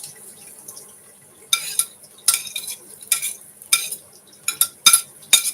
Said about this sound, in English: So you add in your onions,